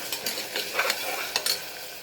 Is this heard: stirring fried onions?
yes